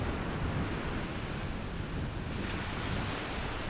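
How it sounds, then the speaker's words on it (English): Ocean waves washing on a beach, a steady broadband surf roar mixed with wind, constant and fairly near with no talk. "It's like just the sound of the waves."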